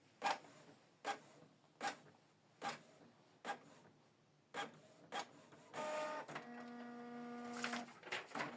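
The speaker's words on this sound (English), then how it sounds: "So now it's printing out network configuration page." A Canon MG3650 inkjet printer prints a network configuration page, with a series of regular mechanical clunks and paper-feed thumps followed by a whirring, buzzing print-head pass, all close and fairly quiet.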